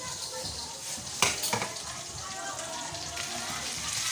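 Garlic and onion sauté with shrimp paste in a hot pan, a steady close sizzle broken by a brief scrape and clink of stirring.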